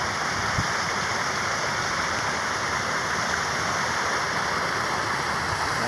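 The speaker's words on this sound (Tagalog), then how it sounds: "Ganda ng agos ng tubig oh." A stream of clear water flows in a natural spot, making a steady, close, full rushing sound that runs unbroken throughout with no voices.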